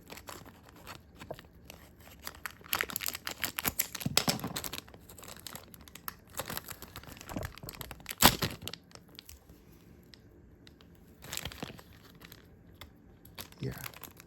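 Plastic packaging of a Beyblade X Pearl Tiger and Gill Shark dual pack crinkles and tears up close in bursts of crackling, with a quiet pause between handling and a voice at times.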